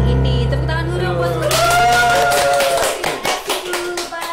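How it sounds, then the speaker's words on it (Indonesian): Clapping from a group thanking teachers, rising from about 1.5 seconds after a stretch of tonal music and voice, then fading into scattered claps over continuing background sound. "Tepuk tangan dulu buat"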